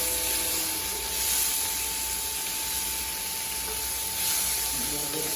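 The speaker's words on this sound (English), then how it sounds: "she's going to saute that up" Shrimp sauté in hot oil in a pan, giving a steady, close sizzle and hiss that runs throughout, with faint kitchen sounds underneath.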